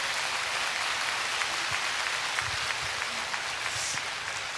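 Audience applause at a memorial concert for the Jeju 4.3 anniversary, a steady wash of many hands clapping, sustained and fairly even throughout without standout voices.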